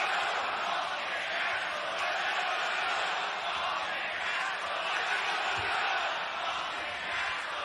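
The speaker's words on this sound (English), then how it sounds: "All I hear is "Let's go, Joe."" A large wrestling crowd at Death Before Dishonor 2023 keeps up a loud, continuous arena roar of massed voices, with the chant itself not clearly picked out, steady throughout with no distinct break.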